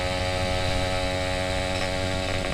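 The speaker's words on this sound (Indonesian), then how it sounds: "suara knalpotnya lebih banter timbang bele" A motorcycle fitted with an Altech C17 aftermarket exhaust rides along, its engine droning steadily and loudly with a harmonic buzz throughout.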